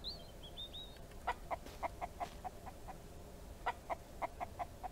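Chickens in the video game Mist Survival cluck in short bursts, a run of rhythmic clucks followed by a second cluster, with a faint chirp at the start.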